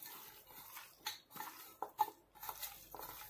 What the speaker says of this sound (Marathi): आता मी हे सगळं मिक्स करून घेणार आहे। मटनला चांगला मसाला लागला पाहिजे